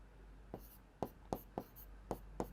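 A chemistry formula is written by hand as soft, evenly spaced strokes, about seven short scratches in a quiet room, close and faint.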